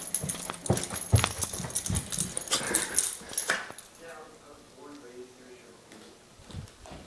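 A Jack Russell Terrier and Shih Tzu mix whines and yips eagerly for a piece of ham, high-pitched cries rising over a person's excited talk, then softer whimpers trailing off near the end.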